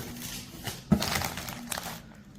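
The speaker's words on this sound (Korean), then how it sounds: "이 비닐을 잡고 뜯으라는 얘기 같습니다" Plastic wrap is pulled and torn off the packaging of a Bambu Lab X1 Carbon Combo 3D printer, giving a sharp crinkling rip followed by about a second of rustling and a few smaller crackles, close by.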